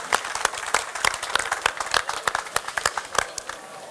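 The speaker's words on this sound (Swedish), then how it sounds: "En applåd för Jonas Karlsson." Audience clapping at a Swedish chef competition semifinal in Karlstad, loud, distinct claps from a modest crowd with an uneven, fairly quick rhythm that continues for several seconds, with no talk.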